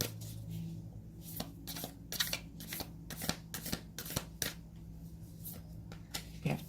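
Cards shuffled for a pick-a-card reading, a steady series of close, crisp riffling slaps in quick rhythm over a faint steady hum, with no talking.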